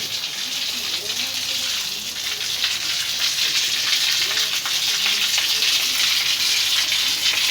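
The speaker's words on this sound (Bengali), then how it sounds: "এর মধ্যে ট্যাঙ্কি ফুল হয়ে জল অপচয় নষ্ট হইতেছে।" Water overflows steadily from a full tank on a village boat on the Padma, producing a continuous loud gushing, splashing rush that holds unbroken from start to finish.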